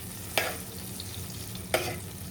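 A seafood boil mixture is stirred in a pot, with a low continuous simmering hiss and two distinct scraping sweeps of the spoon, quiet and close with no talking.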